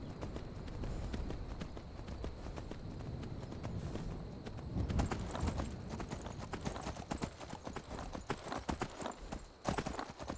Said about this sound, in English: Come on, horse, you can do it.